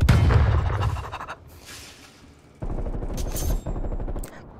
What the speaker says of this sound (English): I guess I'm running in there with a shotgun now